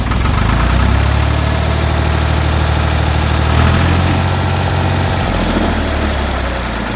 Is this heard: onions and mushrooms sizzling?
no